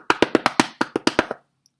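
A door knocker bangs on a door in about ten quick, sharp raps in a steady rhythm, close and loud, then stops abruptly.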